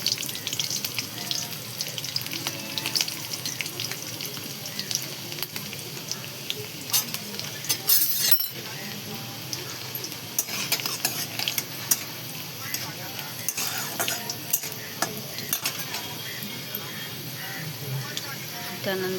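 Cumin seeds and garlic sizzling in hot oil for a soybean dish, a loud crackling fry with clinks of utensils against the pan, close and continuous with a voice talking over parts of it.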